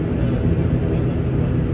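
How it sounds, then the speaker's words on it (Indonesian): Steady low roar of a passenger jet cabin during takeoff on a NAM Air flight, a dense continuous engine rumble that stays loud and even throughout. "we are about to take off"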